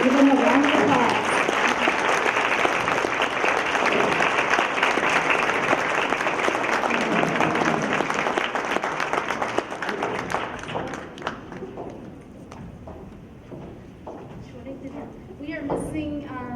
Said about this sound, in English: So let's welcome them up and give them a round of applause.